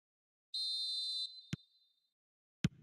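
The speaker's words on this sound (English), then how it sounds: "There's the whistle." A referee's whistle in the eFootball video game: one sustained shrill blast of just under a second, followed by two sharp isolated thumps, clean and close against silence, with no voices.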